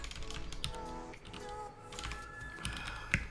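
Computer keyboard typing during an Arch Linux install, close clicks and taps over a steady background hum, with no voice.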